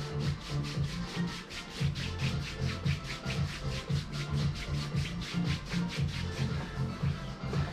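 Palms rub briskly back and forth over a person's back during a warming-up massage, a steady rhythmic swishing of about four strokes per second, close and soft, with no talking.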